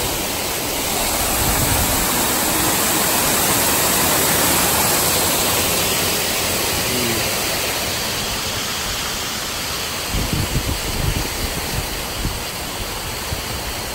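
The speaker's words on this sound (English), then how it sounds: "Check out the pool side. The little waterfall." A small waterfall beside a hotel pool in Orlando, Florida, pours with a loud, steady broadband rush close by, with a brief surge of splashing near the end and no one speaking.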